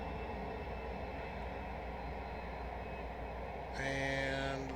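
A MiG-21 jet engine idling after startup in a flight simulator, a steady, fairly faint whining drone, joined near the end by a brighter tonal cockpit beep layered on top.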